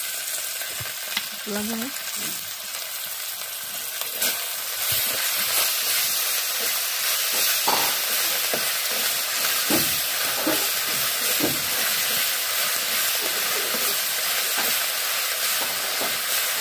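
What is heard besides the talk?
ginger and garlic frying in oil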